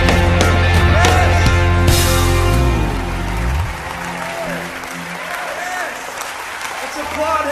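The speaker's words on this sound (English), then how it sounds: "Let's applaud him" A church congregation applauds loudly over music and singing at a Christmas service, the clapping strong for the first few seconds and then fading while the music continues beneath voices.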